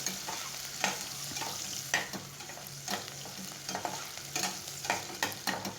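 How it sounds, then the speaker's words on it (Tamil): Onion sautés in oil with spices in a pan, a steady close sizzle broken by regular scraping strokes of a spatula as it is stirred. "அதையும் போட்டு எண்ணெயில் நல்லா வதக்கிடலாம் ஆனியன் நல்லா வதங்கட்டும்"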